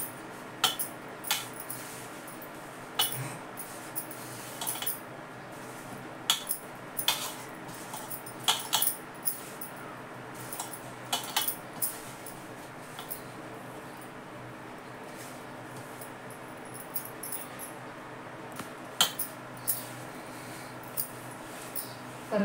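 Spoon scraping and clinking against a pan while mixing ladoo mixture with added ghee, with soft scattered taps and scrapes at an irregular pace and quiet between them.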